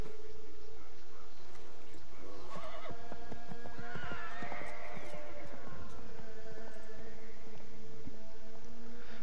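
Horses in the video game Assassin's Creed III whinny loudly and clatter away with galloping hooves over ambient outdoor game sounds, with no talking.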